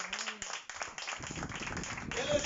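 A church congregation breaks into applause during a sermon, a dense wash of clapping that builds and holds steady, faint at first under brief talk, then filling the room.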